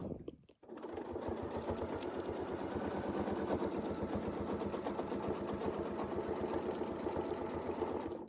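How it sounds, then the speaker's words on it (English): A sewing machine stitches a continuous quilting motif, running in one steady, fast, evenly pulsing burst after a brief pause at the start, close and alone with no talk. "I'm going to just line it up on the base, and I'll sew the first shape, of course."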